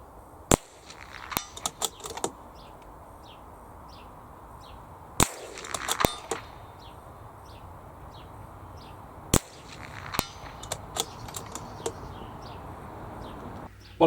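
A .22 rimfire rifle fitted with a Crimson Trace Hardline Pro scope fires several sharp, separate cracks spaced seconds apart, outdoors with birds chirping faintly in the background.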